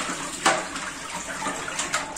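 Tap water runs into a bowl of snails being rinsed, a moderate splashing flow with a few brief louder surges and sloshes as the water is topped up.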